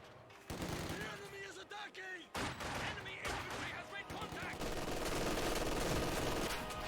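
Dense rattling small-arms and machine-gun fire pins down an infantry squad in Company of Heroes 2, a World War II strategy game, bursts overlapping continuously with a short break, loud and close with a voice talking over it.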